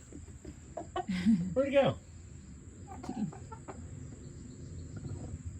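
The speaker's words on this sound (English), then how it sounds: "Where's the rooster? Holy shit, he's mad." A rooster on an off-grid homestead lets out a few short, agitated clucks close by, followed by quieter scattered sounds, with someone speaking briefly.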